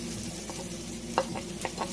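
Chopped red bell pepper is tossed into a pan of freshly cooked chicken with the heat just switched off; a steady, low sizzle runs throughout, broken by a few sharp stirring clinks, close and unaccompanied by talk.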